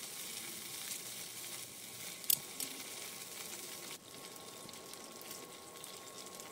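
Fenugreek and mustard seeds sizzle in hot oil in a pan with a steady, close frying hiss, a brief crackling burst near the start, then a quieter continuous sizzle.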